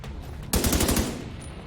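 A sharp, loud burst of rapid automatic gunfire erupts in The Division 2 video game after a brief quiet lead-in, then its echo trails off.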